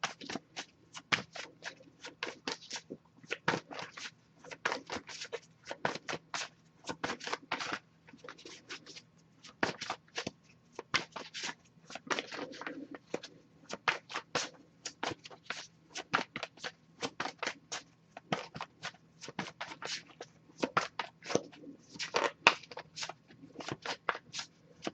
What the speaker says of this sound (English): just going to shuffle this for a bit, see if we get any jumpers